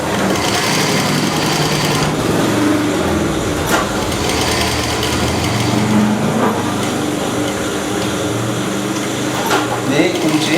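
A sewing machine stitches a straight locking seam on a double-welt pocket, running in a steady close whir with small mechanical clicks while a voice talks over it.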